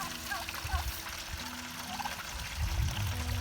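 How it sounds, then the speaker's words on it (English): Water pours into a container for a turkey tractor in a poultry garden, a steady trickling stream running throughout under a low outdoor rumble, with a voice speaking briefly over it. "Let's go fill the water."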